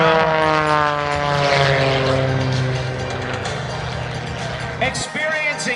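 Sean D. Tucker's propeller aerobatic airplane rolling at the 2014 Vectren-Dayton Air Show: a loud, steady engine drone with shifting pitch as it maneuvers and dips slightly in the final second, under a commentator talking.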